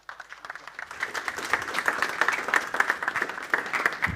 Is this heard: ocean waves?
no